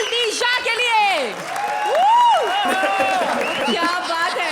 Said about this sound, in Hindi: जोरदार तालियां विपुल दिशा के लिए